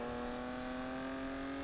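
A runner car's engine holds a steady, high-pitched whine in Need for Speed Payback, a continuous, even tone over a short stretch with no talking.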